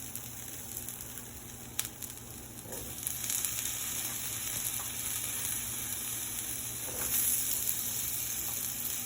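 Vegetables and potatoes cook in a pan with a steady, soft sizzle and frying hiss, plus occasional faint clicks and a slight rise in intensity partway through, fairly quiet and continuous, with no talking.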